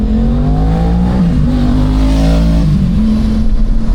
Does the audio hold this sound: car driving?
yes